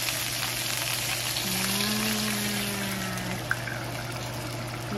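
Water poured into a hot pan of frying gyoza dumplings, producing a steady, dense hiss and sizzle with a faint tonal whistle drifting through it.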